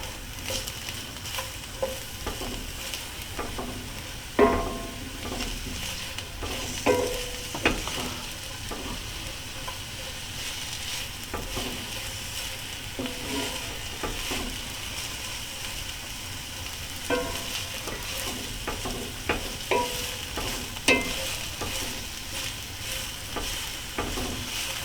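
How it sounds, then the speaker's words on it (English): Onions sautéing in a hot pan for a chorizo and egg breakfast burrito, a continuous close sizzle with frequent scraping stirs and sharp clicks from a utensil against the pan, no talking. "I'm just going to saute the onions till they start turning translucent"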